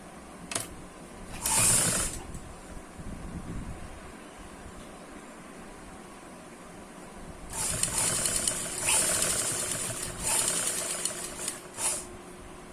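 A sewing machine stitches lace along a front neck design, running in a short burst near the start and then in longer spells of rapid mechanical chatter, with quieter handling gaps between runs.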